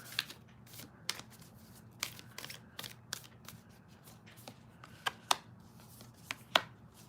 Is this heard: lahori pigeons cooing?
no